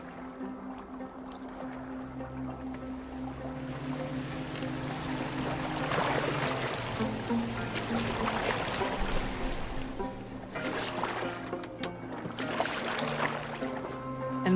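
Boat steered across open water in Assassin's Creed Valhalla, a steady wash of water and wind with layered game music swelling over it, no voices during the passage.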